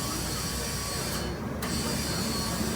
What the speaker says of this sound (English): We'll inflate our tire with the auto set tire inflation.